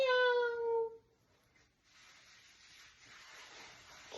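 A person's voice imitates a cat's meow, a single drawn-out, falling meow sung loudly up close for about a second, followed by quiet room noise.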